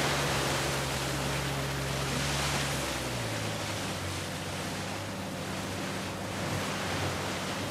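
A waterfall in Uncharted 4 roars as a continuous, dense wash of falling water, loud and steady throughout with a low droning tone underneath.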